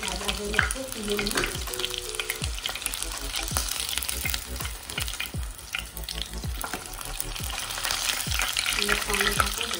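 Chicken pieces crackle in hot oil as chilli chicken fries, a dense close sizzle punctuated by frequent sharp clinks of a spoon or spatula against the pan.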